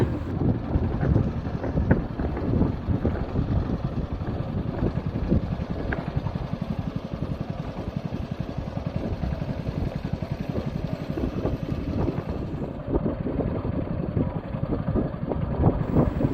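A motorboat's engine drones steadily on an open lake, heading toward the middle, with wind buffeting the microphone throughout the ride.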